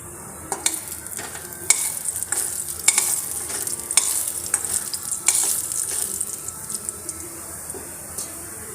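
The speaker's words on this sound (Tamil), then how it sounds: "கடுகு போட்டுக்கலாம் கடுகு பொறிஞ்சோடனே உளுந்து பருப்பு போட்டுக்கலாம்" Mustard seeds and urad dal fry in hot oil for a garlic chutney tempering, giving a close, continuous crackling sizzle with sharp popping bursts scattered irregularly throughout, no voices over it.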